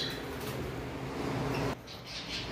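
Conure parrots in a bird shop keep up a dense, loud, continuous wash of harsh squawks and chatter up close, which drops slightly in level near the end.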